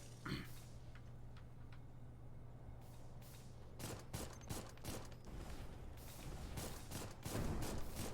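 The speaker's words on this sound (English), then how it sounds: "I bring an AK and just mag dump everything in front of me" Rapid bursts of AK rifle fire from a mag dump in a video game: dense, quick shots fairly faint at first, then cluster more tightly and grow louder toward the end.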